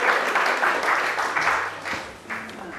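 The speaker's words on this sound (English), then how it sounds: "give them a round of applause as they step up this way" An audience breaks into loud, sustained applause, a dense clatter of many hands clapping close by, with faint voices mixed underneath.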